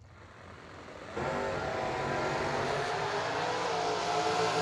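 A 1991 Oldsmobile launches in the left lane of a drag strip, its engine roar rising abruptly out of faint background noise and holding as a sustained, fairly distant rumble.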